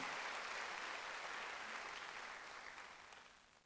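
A congregation claps during a Sunday church service, a full, steady burst of applause that gradually fades out over a few seconds.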